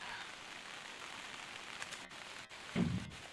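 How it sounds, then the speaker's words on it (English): Light rain begins falling on a golf course fairway, a steady soft patter close by with a brief louder thump near the end; no talking. "Oh, it's just starting to rain again."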